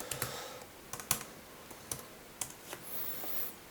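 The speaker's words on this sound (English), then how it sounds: "hit return or enter on my keyboard" Typing on a computer keyboard, a quiet series of separate key clicks spaced irregularly, with a firmer tap like the return or enter key, close by in a still room with no talk.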